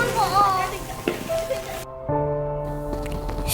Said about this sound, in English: So just add the cooked rice and stir everything well.